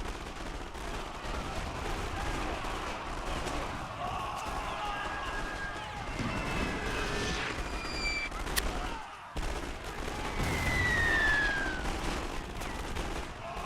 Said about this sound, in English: SMG and artillery firing down into the US positions